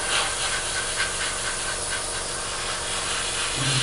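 Airbrush blowing air to dry paint on a 1/48 Italeri Chinook model kit, a steady close hiss running continuously through the whole clip.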